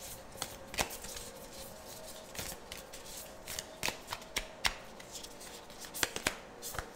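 Guardian angel oracle cards are shuffled by hand in a series of crisp riffles and slaps, some sharper than others, close and clear with no speech.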